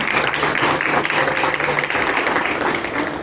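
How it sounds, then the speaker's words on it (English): Loud, dense applause from an audience after a school cultural performance, a continuous roar of clapping hands that holds steady throughout. "give a huge round of applause for this brilliant performance"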